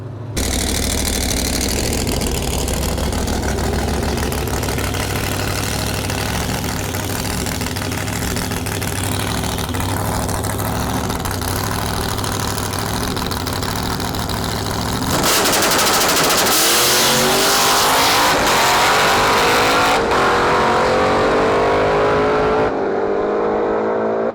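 A drag race car called Blasphemi, fitted with a mini wing, roars through an eighth mile run, its engine a loud sustained rapid rattling drone that jumps even louder midway, then cuts off near the end.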